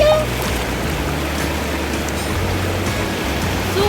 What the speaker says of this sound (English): Super waterfall. Beautiful.